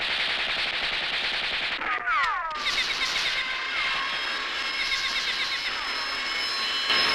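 Rapid cartoon gunfire aimed at a robot, a dense, loud burst of automatic shots with a brief gap and swooping whistles, then continuing steadily as a sustained rattling barrage.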